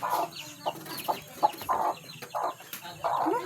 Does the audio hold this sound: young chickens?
yes